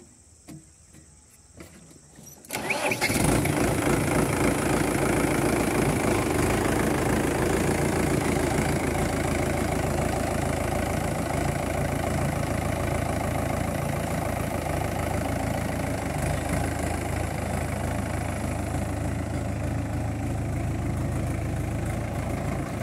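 A tractor engine idles close by in an orchard, its low rumble loud and constant after a quiet start, with a high insect-like buzz running over it.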